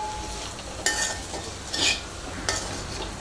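Potato fry being stirred and sautéed in an iron kadai: a constant frying sizzle broken by three scraping strokes of a spoon against the metal pan.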